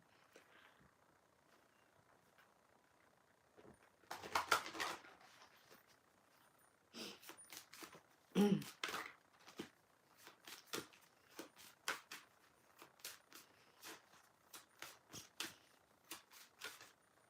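A deck of cards is shuffled in soft bursts: one riffle early, then a long run of quick rhythmic flicks and snaps, faint and close, with no talking.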